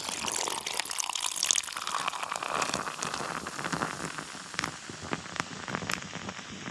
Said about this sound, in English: Hearing a little fizz there already. But here we go. Let's get that pour started, shall we?